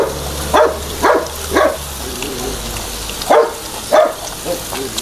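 A dog in a farmyard barks in short, loud bursts, several spaced yips close by, with quiet background noise between them.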